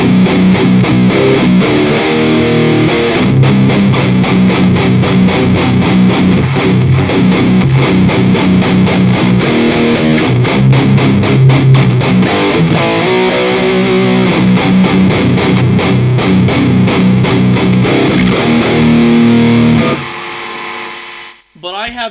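Electric guitar through an HM2 clone pedal into an Ignite Amps Emissary amp, a loud, thick, heavily distorted riff played continuously and close, ending abruptly with a brief scrape of noise.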